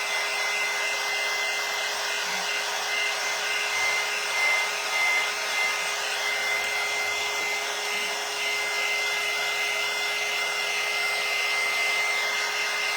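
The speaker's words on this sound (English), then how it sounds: "So I'm going to get my dryer out after I wipe my hands." A handheld hair dryer blows in a steady, loud whirring drone while drying a rustic St. Patrick's Day mailbox craft, running continuously without pause and with no talking.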